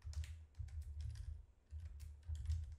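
Typing on a computer keyboard while setting up a scheduled Windows 10 shutdown task, with quick clusters of soft key clicks broken by short pauses, close by and quiet.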